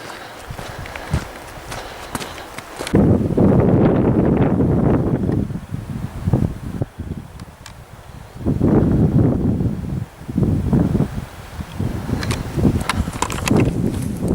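Gusty wind buffets the microphone on an open hillside path up Moel Famau, with loud roaring surges that come and go alongside steady footsteps crunching on the trail.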